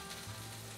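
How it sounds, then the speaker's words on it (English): Food sizzling as it fries in a pan, a brief faint crackle heard close up and alone. "while my food is still frying"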